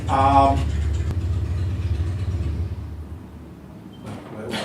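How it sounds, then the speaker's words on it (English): A motorbike engine rumbles outside, a low throbbing drone that slowly fades as it moves away, with a voice speaking briefly at the start. "We've got a motorbike outside"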